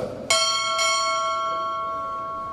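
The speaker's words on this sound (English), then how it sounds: "Time order. Strike. Two bells." A ship's bell rung twice during a U.S. Navy chief pinning ceremony: two bright, close strikes half a second apart, with a long shimmering ring that decays gradually afterward.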